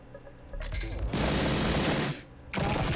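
Weapon fire in a Lucid9 fangame video game: a short burst begins, then a dense, sustained rattle of rapid automatic fire for about a second, and after a brief pause another loud burst starts.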